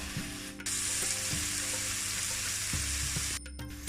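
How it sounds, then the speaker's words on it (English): Vegetables and a little sugar cooking in a pan over lowered heat, a steady dense sizzle with occasional soft spatula knocks, close and continuous. "just let that cook together on a bit of a lower heat than what it was before"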